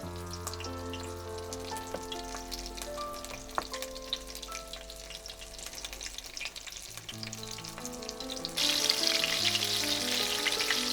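A chicken fillet schnitzel fries in a pan with a constant crackling sizzle that grows noticeably louder and hissier near the end, heard alone without speech.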